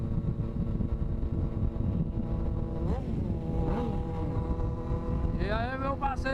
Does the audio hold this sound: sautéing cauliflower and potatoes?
no